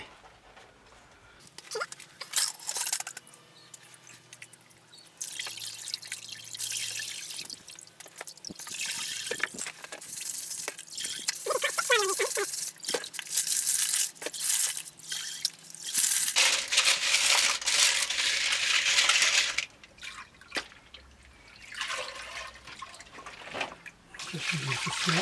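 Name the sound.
water rinsing out a rock tumbler barrel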